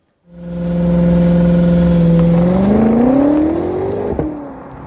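A BMW X6 M SUV's powerful 625 hp engine starts and holds a loud, steady drone, then climbs in pitch as it revs up before easing off.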